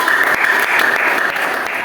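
Steady burst of clapping from a school class, dense and continuous for a couple of seconds, fairly loud and close.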